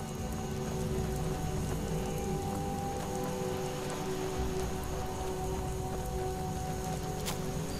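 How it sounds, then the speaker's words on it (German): Rain pours through a forest in The Elder Scrolls V: Skyrim, a dense, unbroken hiss with scattered drops that holds steady and fairly loud throughout. "So im Wald mit dem Regen"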